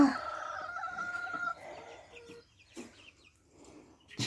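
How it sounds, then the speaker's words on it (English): Chickens in a backyard coop cluck and squawk, one chasing a chick; a close, busy burst of hen calls fills the first second and a half, then quieter scattered clucks and rustling follow. "Chicken giving them what for?"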